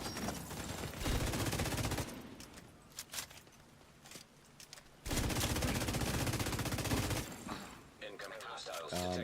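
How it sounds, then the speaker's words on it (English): Sustained bursts of automatic gunfire in The Division 2, loud and close, with two long dense stretches separated by a quieter gap of scattered shots, then a final flurry at the end. "Stop shooting me like this."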